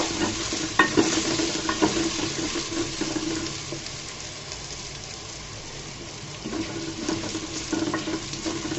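Ground coriander, cumin and a little turmeric fry in a pan while being stirred, making a steady soft sizzle with scraping strokes and a few louder clinks of the spoon against the pan.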